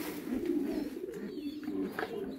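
French pigeons in a coop coo softly and repeatedly, low throaty calls rolling close by in a quiet setting.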